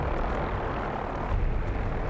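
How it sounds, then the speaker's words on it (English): Vertibird helicopter from the video game Fallout 4 flying close by, a steady loud rotor and engine roar that holds evenly throughout with a slight swell near the end, no talking. "these helicopter vertibird things are gonna spawn all over the Commonwealth"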